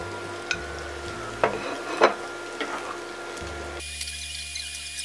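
Pork belly is stir-fried with lemongrass in a pan, giving a soft sizzle under sharp scrapes and clacks of a utensil stirring, close and moderately quiet.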